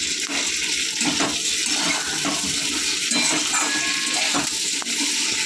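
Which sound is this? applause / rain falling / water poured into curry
water poured into curry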